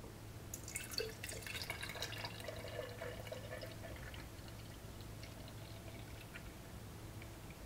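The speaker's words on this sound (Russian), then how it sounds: "Наливаю молока." Milk pouring steadily into a jar, a trickling, splashing stream that starts strong and tapers off, with a low steady hum underneath.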